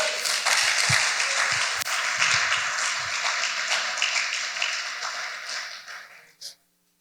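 A congregation applauds at a men's church congress: dense, sustained clapping that holds steady, then fades out near the end, with a last short burst before silence.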